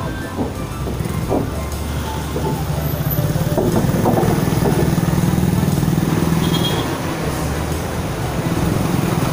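Steady road traffic at night with motorcycle engines droning and passing close by, including a Rusi Gala SC125 scooter, a continuous rumble of vehicles throughout.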